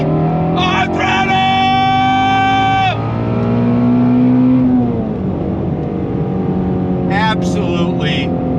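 A 2020 Ford Shelby GT350R's V8 roars loudly from inside the cabin, climbing in pitch, dropping, then surging again as the throttle is worked, with a voice briefly speaking over it.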